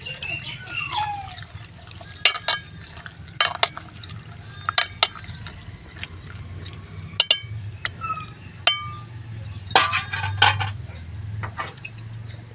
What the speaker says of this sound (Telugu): 1/2 టీ స్పూన్ పసుపు వేసేసుకొని ఒకసారి బాగా కలిపేసుకుందాం.